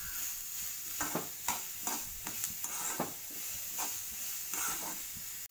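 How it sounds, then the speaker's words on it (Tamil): Chopped onion frying in hot oil gives a steady bright sizzle, with a spoon or spatula clinking and scraping the pan every half second or so. "ஆனியன் நல்லா வதங்கட்டும்"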